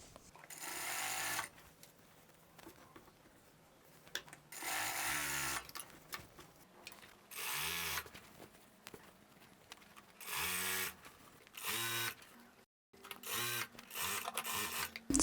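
Sewing machine stitching along the edge of a salwar pants waistband in bursts, rapid mechanical clatter for a second or two at a time, separated by quiet pauses and soft handling noises.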